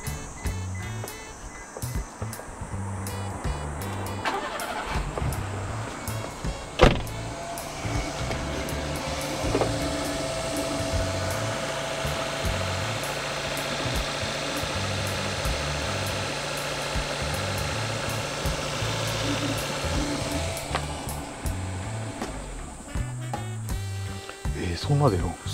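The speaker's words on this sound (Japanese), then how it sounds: "もう一回エンジンかけてみます。" A Daihatsu Copen engine, undergoing a power steering fluid change and likely drawing air into the system, starts and idles with a steady, even hum and whine, while people talk throughout.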